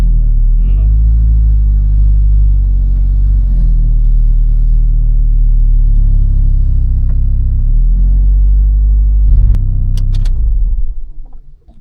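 A built car engine drones loudly and steadily at high revs on a dyno, with a couple of brief rises, then winds down and cuts out at the end.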